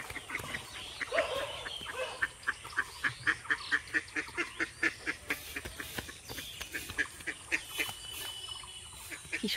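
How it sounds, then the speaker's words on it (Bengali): Ducks in a shallow pond quack over and over in a fast, rhythmic series of honking calls at moderate distance, with a little background noise in between. "ওই দেখো হাঁসগুলো পুকুরে, অল্প জল হয়েছে সেখানে আছে"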